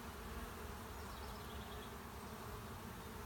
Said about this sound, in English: there are now a lot of bees in this hive